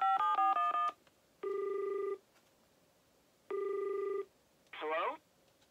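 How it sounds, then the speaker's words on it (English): Electronic Dream Phone toy redialing and calling: a quick run of descending electronic dial tones, then two long steady ring bursts separated by a pause, ending with a short warbling chirp, all close and clear. "I'm going to hit the redial button and see if we can hear it again."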